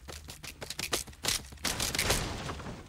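Gunfire in the Fortnite battle royale game, rapid bursts of shots in an irregular run ending in a denser, noisy stretch, loud and without talk.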